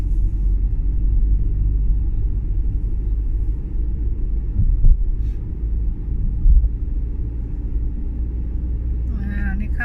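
A car rolls slowly through a large village, its low engine rumble and road noise steady and close, while a person talks over it.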